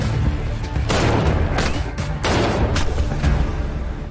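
Several loud shotgun blasts crack out in quick succession, each a sharp broadband burst, with a rough noisy background between them.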